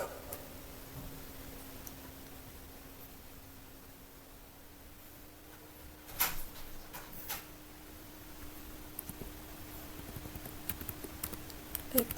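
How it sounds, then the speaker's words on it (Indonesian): Someone types on a computer keyboard, making sparse, faint key clicks in short clusters over a quiet room hum, with a few louder taps later on. "Oke, mari kita ketikkan"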